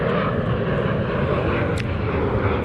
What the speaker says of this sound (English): We got an airplane up there.